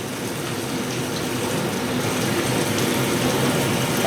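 Cold tap water runs steadily into a stock pot holding shrimp heads, a continuous near gushing and splashing that builds slightly in strength, with no talking.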